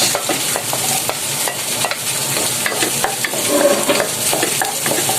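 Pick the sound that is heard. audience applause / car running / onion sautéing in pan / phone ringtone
onion sautéing in pan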